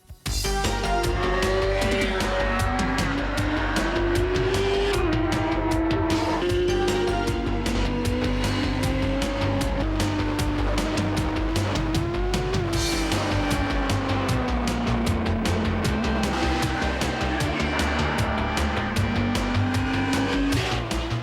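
Superbike race at the Autodrome St. Eustache circuit near Montreal, Quebec, with loud, sustained engine whine rising and falling as bikes rev and shift through the gears, continuous and dominant.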